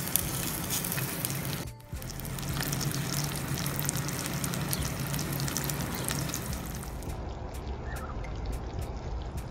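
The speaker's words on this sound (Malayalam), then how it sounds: "അതൊന്ന് ചൂടായിട്ട് വരുമ്പോൾ നമ്മൾ നേരത്തെ ഫ്രൈ ചെയ്ത് വെച്ചിട്ടുള്ള നമ്മുടെ വെജിറ്റബിൾസ് ഇതിലേക്ക് ചേർത്ത്" Previously fried vegetables tipped into hot oil in a pan for maqluba, a layered chicken and rice dish, giving a steady broad sizzle and crackle that briefly dips near the start, then continues loud and even throughout.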